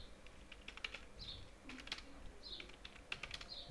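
Fingers tap on a computer keyboard in quick irregular bursts of light clicks, close and fairly quiet, with no voice over them.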